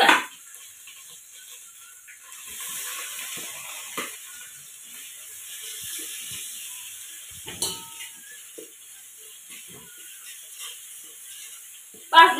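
Onion and homemade black chili powder fry in oil in a pan, giving a faint, steady sizzle with occasional soft clinks and scrapes of stirring.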